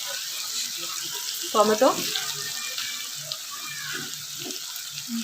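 Onions fry in a kadai for a fish and cauliflower curry, giving a soft, continuous sizzle close by. A few brief clinks and light stirring noises sit on top, and a voice speaks briefly over it.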